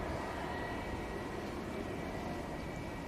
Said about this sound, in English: we've got an EasyJet arriving